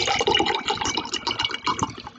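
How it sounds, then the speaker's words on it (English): Bottled water poured into a glass: a continuous close splashing and gurgling stream that fills the glass steadily for the whole stretch, with no talking. "I'm going to open it gingerly and we're going to pour it into the glass."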